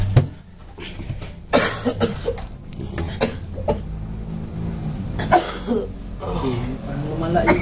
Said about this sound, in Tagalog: Parang lumala yung ubo niya.